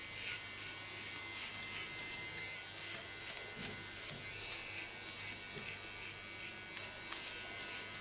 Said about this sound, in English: There's this clipper. And this goes even nearer to the skin.